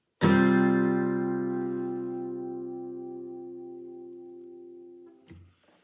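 A single acoustic guitar chord from the intro of a song, played with the fifth string muted, rings out clearly and decays slowly for several seconds before a soft string touch ends it.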